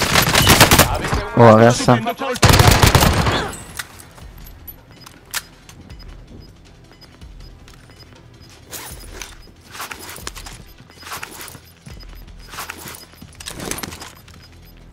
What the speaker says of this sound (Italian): No, sto usando la mitragliatrice.